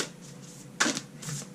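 Oracle cards are shuffled close by in soft riffling bursts, with a sharper flurry in the middle and another toward the end, no voice over it.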